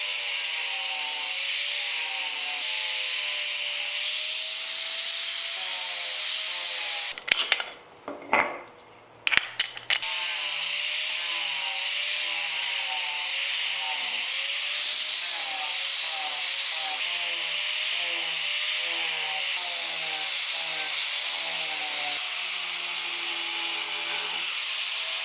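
A power carving tool fitted with an extra-coarse bit grinds into wood with a steady high whine, broken by a brief pause and restart, close and continuous.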